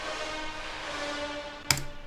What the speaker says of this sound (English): And then I also made a reverb chain